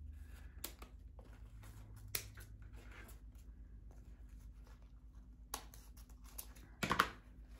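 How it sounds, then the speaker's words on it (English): Scissors cutting ribbon tails while making a Valentine's chocolate candy heart box: a few quiet, sharp snips spread across the clip, close and isolated against near silence. "Let's cut these tails down."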